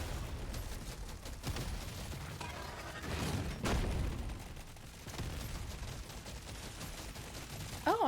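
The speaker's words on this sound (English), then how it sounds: "Ooh, all those explosions!" A dense barrage of explosions and gunfire in the video game Deep Rock Galactic: Survivor, a continuous crackling roar with heavier booms rising and falling, fairly faint overall.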